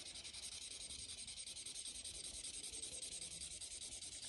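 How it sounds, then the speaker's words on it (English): A yellow pencil colours in a sandy area on a paper map with a steady, continuous scratchy rubbing close by, strokes running in one direction, with no talking. "To make it look as similar to sand as I can, I'm going to colour it in yellow."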